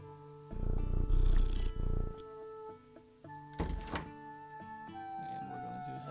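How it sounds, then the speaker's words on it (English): A cat purrs in the video game Teddy's Haven, a steady low rumble under soft game music and a couple of dull thunks. "We got our cat, Sarah."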